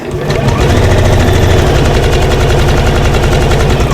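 Sewing machine stitching divider pockets on a storage organiser, a loud rapid mechanical hum and needle chatter running continuously once started.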